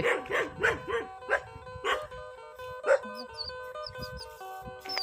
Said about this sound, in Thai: ได้ยินเสียงหมาเห่าอยู่เถียง